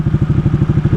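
Ducati Panigale 899 sport motorcycle engine during heavy downshifts, a loud, close, rapid pulsing rumble with throbbing, crackling firing beats.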